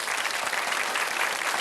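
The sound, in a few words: audience applause at a quiz night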